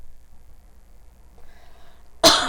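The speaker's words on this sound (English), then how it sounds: "I hate this cough that I have." A woman gives one sudden, close cough, loud and sharp, with a quick second burst at the tail, after a near-silent pause.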